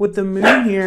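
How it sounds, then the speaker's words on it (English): A dog barks once close by, a loud short bark as a person's voice carries on talking over it indoors. "That's my dog."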